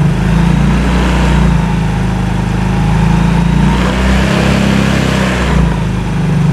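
A Yamaha X-Ride motorcycle engine with a stalling, sputtering fault runs loud and close, a steady droning idle that lifts briefly as the throttle is opened slightly.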